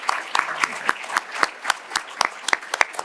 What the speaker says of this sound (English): let's give our panelists, let's give Josh Hale big round of applause